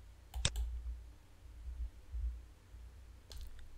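Computer mouse clicks come as a few sharp, faint clicks, a close pair near the start and another near the end, over a quiet low hum.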